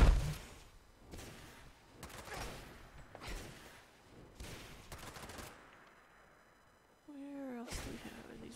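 Automated turret gunfire in the video game Fallout 76: several loud bursts of rapid shots in steady succession, followed by a warbling electronic tone near the end, with game ambience between bursts.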